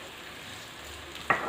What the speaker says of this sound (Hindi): उसके लिए मैं ये पैन में डाल रही हूँ जी 3 टेबलस्पून मैंने ऑयल ले लिया है और हाफ कप मैंने ले ली है प्याज